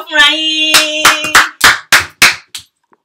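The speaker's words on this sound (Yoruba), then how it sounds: "Pàtẹ́wọ́ fúnra yín." Children clap their hands along to a song during a live Yoruba-language show: a sung note is followed by about seven sharp, close, slightly uneven claps that stop into silence.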